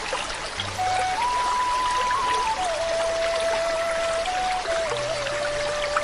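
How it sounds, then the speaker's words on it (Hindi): River water flowing steadily in a cartoon village scene where a man bathes, heard as a constant loud rushing pour with a faint sustained musical tone running over it. "रामपुर के पंडित श्यामचरण नदी में नहावत रथे।"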